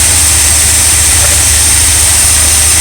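An RV engine idles while it warms up, giving a loud, steady, low rumble with a constant hum and no change across the span, heard up close and with no voices.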